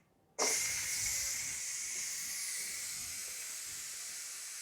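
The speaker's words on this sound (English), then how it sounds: "I'm going to go ahead and release the pressure while we get the gravy part ready." Steam rushes out of a Ninja Foodi pressure cooker as its pressure is released after cooking chicken thighs, a sudden loud onset settling into a steady, continuous hiss that slowly fades.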